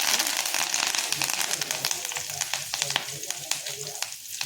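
Steady, dense sizzling of curry leaves dropped into hot tempering oil with mustard seeds, with crackling pops throughout, close and fairly loud, easing slightly near the end.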